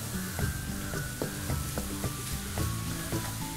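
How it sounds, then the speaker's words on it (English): Sliced onions and capsicum sautéing in a hot pan for Schezwan dosa, a steady sizzle broken by repeated spatula scrapes and tosses at a regular rhythm. "Now you can toss in the sliced onions and the capsicum."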